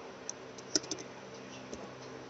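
A verification code tapped out on a computer keyboard: a handful of soft, quiet key clicks, with one small cluster near the middle, over a low steady room hum.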